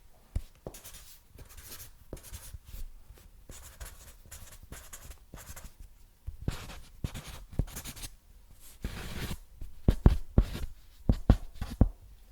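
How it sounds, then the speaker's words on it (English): A scratchy Sharpie marker squeaks and rasps across a surface in short, irregular strokes, close up, with quieter gaps between bursts. "Sharpies because they are so scratchy."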